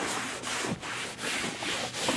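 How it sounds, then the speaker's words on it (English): Repeated rubbing strokes of a towel across a hard interior surface of a 2015 Lamborghini Huracan, a steady back-and-forth swish with about five passes, close and fairly loud. "Take your towel and just wipe it in."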